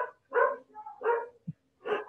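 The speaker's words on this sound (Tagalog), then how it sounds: "maraming aso" Several loud, close dog barks come in quick succession with short gaps between them, plus a brief low yelp, and no talk.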